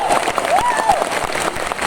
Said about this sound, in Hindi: जोरदार तालियां अरुण भार्गव जी के लिए बता सकते हो।